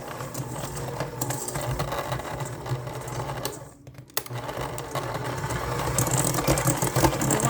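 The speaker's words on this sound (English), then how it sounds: "So I'm going to be using my hand KitchenAid" A KitchenAid hand mixer whirs steadily while creaming sugar cookie dough, a close, continuous motor drone with a brief dip near the middle before it resumes and grows a little louder; no voices.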